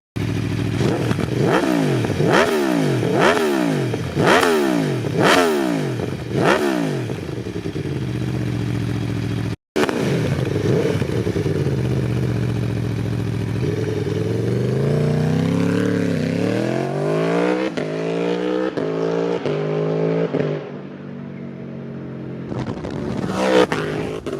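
An Aprilia Tuono V4 1100 RR sport motorcycle with an Akrapovic exhaust revs hard through several quick gear changes, rising and falling in pitch, then cruises and slows, loud and close throughout.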